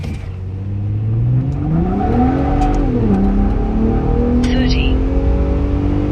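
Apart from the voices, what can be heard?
2024 Ford Raptor truck accelerating 0 to 60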